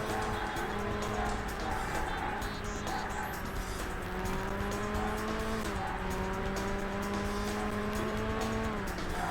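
Racing cars in the video game Burnout roar steadily throughout, engine tones rising and falling in pitch with occasional tire squeal, loud and continuous with no voices.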